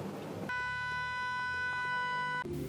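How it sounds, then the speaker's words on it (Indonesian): A siren sounds at the inauguration of the Tugu Perjuangan fountain at Siring Laut, a loud, steady electronic tone held for about two seconds and then cut off, with crowd ambience before and after. "Bupati Kota Baru Said Japar Alaidrus memicik sirene rahat meresmiakan air mancur Tugu Perjuangan di Siring Laut."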